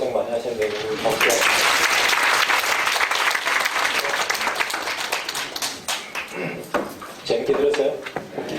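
Audience applause in a university lecture hall, a dense sustained clapping that swells near and loud for most of the clip, then thins and briefly rises again near the end.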